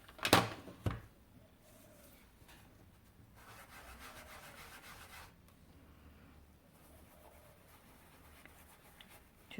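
Round sponge quarters dabbing and rubbing evergreen ink in small circles through a card stencil, a soft, steady scuffing that stays faint and close, with a sharper louder rub at the very start and no talking.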